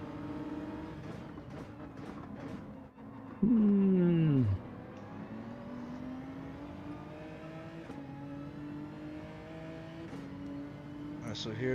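In Gran Turismo 7 qualifying, simulated race car engines drone and climb in pitch through gear changes. A loud, brief engine howl sweeps past as a Toyota Supra goes by, then the steady engine tone resumes.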